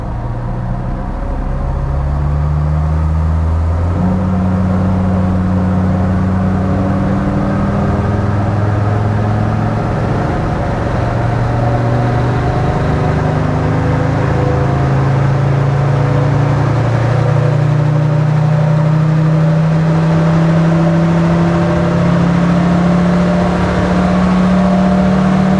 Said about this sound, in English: so we're full throttle now in fourth.